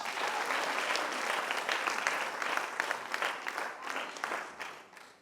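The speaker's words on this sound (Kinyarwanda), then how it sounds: "muyikomera amashyi" Audience applause during a sermon, a dense, steady clatter of many clapping hands that stays loud throughout and eases slightly near the end.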